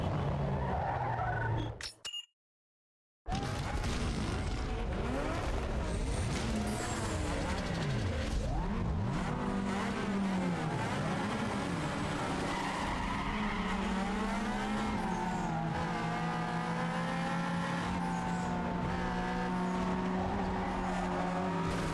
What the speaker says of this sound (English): I don't like the noise your exhaust makes.